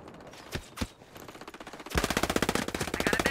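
Automatic gunfire in the tactical shooter Ghost Recon Breakpoint, during a PvP match: two isolated shots, then a sustained rapid burst of loud close-range machine-gun fire that runs to the end.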